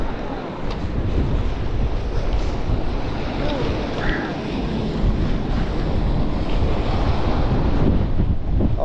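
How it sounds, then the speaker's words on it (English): Strong wind buffets the microphone over steady crashing surf on Folkestone beach during rough seas, a continuous loud roar with no clear talk. "Oh, it's so windy, I'm struggling to stand here."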